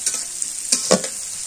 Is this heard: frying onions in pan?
yes